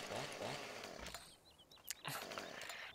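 A chainsaw in the farming video game Farming Simulator 17 on a pig farm, revving in rough snarling bursts with a brief lull in the middle, loud and close.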